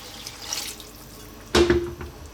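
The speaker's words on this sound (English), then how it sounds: "Now we're going to add more liquid. Like I said, I'm using water." Water from a tap or jug pours into a soup pot of mulligatawny on the stove, a sudden loud splash and short pour that starts about two-thirds through, following quieter kitchen ambience.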